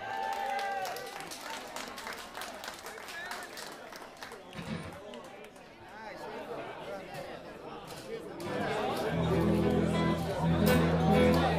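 Voices chatter in a lively room at a live music open stage, then applause and clapping swell toward the end, building louder as the crowd joins in.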